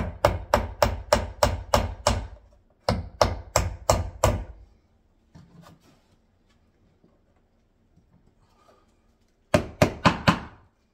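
Hammer striking wood while farmhouse stairs are rebuilt, loud close blows in quick runs of five or six, a quiet pause, then a final short burst of three, no talk.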